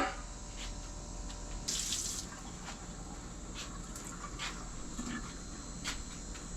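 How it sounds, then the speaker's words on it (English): Running tap water at a kitchen sink washing off a spatula beside a big stainless bowl, a steady close splashing stream with a brief louder gush partway through. "I gotta get my spatula picked up and get it washed off."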